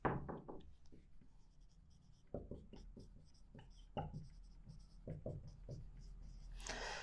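Marker or chalk strokes across a board during a maths lesson, a run of short scratchy strokes and taps in irregular bursts, close and moderately loud, with a voice heard now and then.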